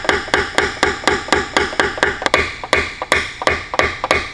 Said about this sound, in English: we'll use hammers and knockdowns to come in and flatten this metal out